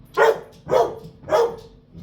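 A dog barks three times indoors, loud and close, with evenly spaced, full-throated woofs and no talking over them.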